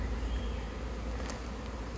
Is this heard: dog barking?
no